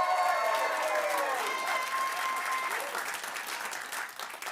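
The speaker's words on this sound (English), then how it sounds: "Round of applause." Studio audience applause on a live late-night comedy show, a loud dense burst of clapping that tapers slightly toward the end, with some cheering mixed in.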